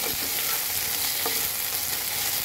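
Garlic and ginger paste with soybean chunks frying in a pan, a steady close sizzle running throughout with a few soft scraping stirs, no voices.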